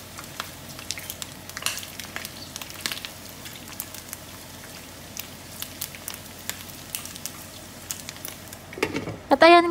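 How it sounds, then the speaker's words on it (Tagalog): Pork pieces cooking in their own rendered fat for pork humba, a soft steady sizzle punctuated by sharp scattered pops and crackles, fairly quiet, with a brief louder clatter at the end. "nag-i-start na sila magputukan sa loob dahil nalabas na nga ang kanyang mantika"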